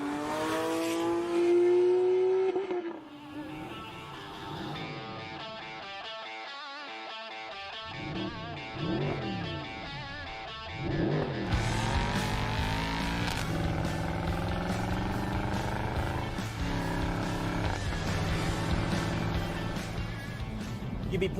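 Porsche 997 GT3 RS with a 3.6 litre Metzger engine and manual gearbox driven in North Wales, loud and near, its engine note climbing and falling through gear changes with strong revving throughout.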